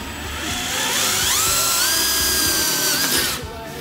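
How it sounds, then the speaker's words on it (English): A power drill with a sharp bit bores a pilot hole into a fuel tank for a sight gauge install, a close, loud whining grind whose pitch rises and shifts for a few seconds before stopping. "if you have a sharp drill bit, you can get away with just drilling it in"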